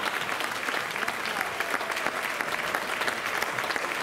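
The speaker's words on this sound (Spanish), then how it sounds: "Fuerte aplauso para él." At an outdoor jota folk music concert in Marcilla, a crowd gives a percussionist a strong, steady ovation of many clapping hands, sustained and even with no voices over it.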